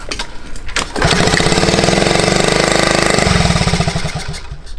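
A Honda T50 motorcycle engine, brought back after ten years off the road, starts after a second of quiet and runs loud and close with a steady rapid chugging, the beat slowing slightly near the end, with no talk.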